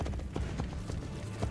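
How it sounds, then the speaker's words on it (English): Horse hooves clip-clop in the Assassin's Creed video game, a quick, steady run of muffled thuds at a fairly quiet level over a low background. "Faster to travel by horse."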